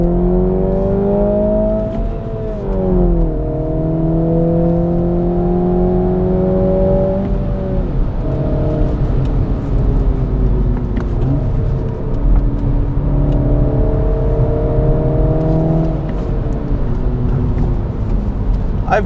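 A 2022 Mini Cooper S two-door drives steadily with its engine note rising and falling through several gear changes, a continuous close interior hum and road rumble with no talk.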